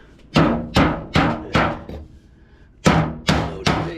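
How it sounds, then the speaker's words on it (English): Hammer blows knocking a stuck HVAC ductwork part loose, two close bursts of heavy metallic whacks, five quick strikes then three more after a short pause, each ringing briefly, with no talking. "we'll probably have to beat that a little bit to get it off"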